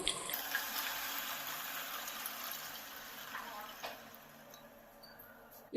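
Three cups of water are poured into a pot for seeraga samba chicken dum biryani, a faint steady trickling stream lasting several seconds.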